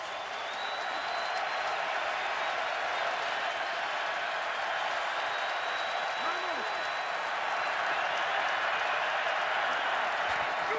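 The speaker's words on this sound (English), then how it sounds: "3rd down and 9. Crowd comes alive." A football stadium crowd at a 2014 Cowboys at Titans game roars continuously on third down, a loud, sustained wash of cheering with faint whistles.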